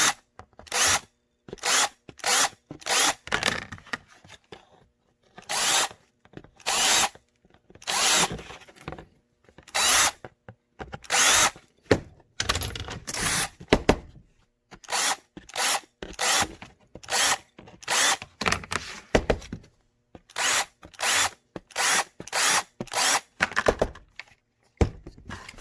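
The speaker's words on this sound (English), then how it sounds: "So now I'll take our deburr tool. I have it on a separate drill." A deburr tool spins on a cordless drill against holster material, giving repeated short whirring bursts, about two dozen across the span, each sharp and close with brief pauses between, no talking.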